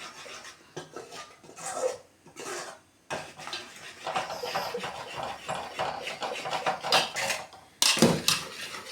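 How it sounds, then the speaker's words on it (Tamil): Thick Mysore Pak sweet mixture is stirred in a pan, giving repeated metallic scraping and clanking of a spoon against the pan, close and busy, with brief pauses and a louder burst of scraping near the end. "பாருங்கள் எப்படி கிண்டுறாங்கன்ட்டு."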